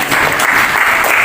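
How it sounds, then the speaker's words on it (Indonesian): A classroom of students clapping for a classmate, a short, loud burst of dense applause close by. "Ya, tadi tepuk tangan untuk Safi."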